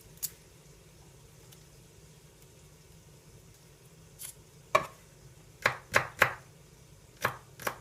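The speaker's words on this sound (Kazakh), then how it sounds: "Сарымсақты ұсақтап үстіне турап жібереміз." Garlic finely chopped with a knife on a board for a fresh tomato and cucumber salad, a quiet pause followed by several sharp close knife strikes in an irregular rhythm.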